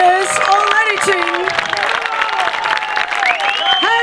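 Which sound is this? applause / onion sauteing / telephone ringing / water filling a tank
applause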